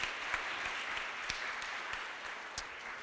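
An audience at a 2015 student science festival award ceremony gives steady, moderately distant applause of many hands clapping, continuous throughout.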